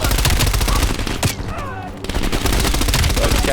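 Rapid automatic gunfire in the video game Call of Duty Cold War, dense loud bursts that pause briefly near the middle and then resume.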